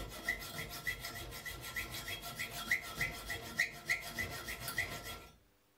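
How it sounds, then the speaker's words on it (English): A hand saw guided by an angle iron rasps back and forth through an iron bar in a steady rhythm of about two strokes per second, each stroke ending in a faint squeak, then stops. "You can cut the iron bars by using an angle joint as guide for the saw."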